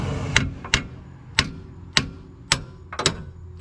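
A hammer striking a nut during a brake kit upgrade on an OBS truck, heard as seven or eight sharp metallic taps at a fairly even pace, close and distinct with no talk.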